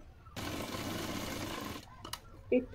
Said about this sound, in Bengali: পেছনে যে চাপ সেলাইটা হয় চাপ সেলাইটা দিয়ে নিচ্ছি।